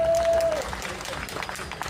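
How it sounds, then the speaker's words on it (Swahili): An audience applauds, broadband clapping running steadily through the whole moment, fairly loud and dense, with a faint tonal whistle near the start. "hebu tuwapigie makofi mengi sana"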